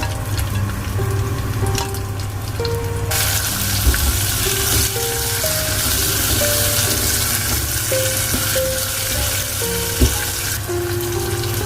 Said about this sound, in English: add mustard seeds, add curry leaves, add 1 onion,